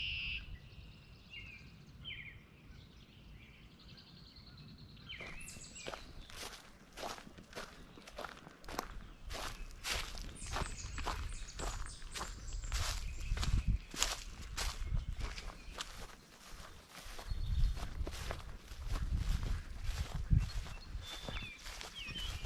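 Steady footsteps crunching along a trail near a marsh, close and regular throughout, with faint birdsong early on and light outdoor ambience.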